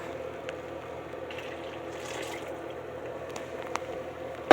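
Hot lye solution poured back from a cup into a container, a soft trickling, gurgling stream of liquid, close and fairly quiet, ending in a sudden louder clatter.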